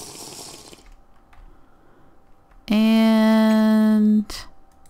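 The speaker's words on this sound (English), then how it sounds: "Drink some water." A drinking sound in the Terrafirmacraft Minecraft game, one loud, sustained tone lasting about a second and a half, heard after a quieter stretch of gameplay noise.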